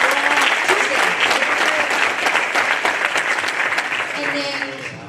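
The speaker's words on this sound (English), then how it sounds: "So can we give him a round of applause?" Loud, dense applause from an audience at a university student council heritage month gathering, a steady wash of many clapping hands that holds for about five seconds and tapers slightly at the end, with faint voices underneath.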